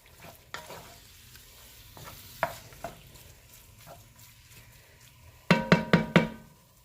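Food browns in a pan for spaghetti sauce, a faint steady sizzle with scattered taps, then a quick run of four loud scraping stirs near the end.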